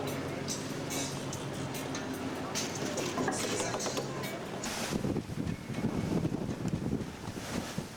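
Sailboat running at about 6 knots off Beef Island, with steady rushing wind and water noise throughout and louder gusts and splashing in the second half; voices talk over it.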